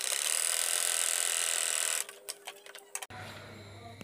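A sewing machine running a double stitch: a rapid, buzzing mechanical whir for about two seconds, then a few ticks and clicks as it slows and stops.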